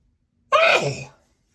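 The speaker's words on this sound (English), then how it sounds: "Bonus sneeze." A single close, loud sneeze, a sharp burst that trails off over about half a second, with silence before and after.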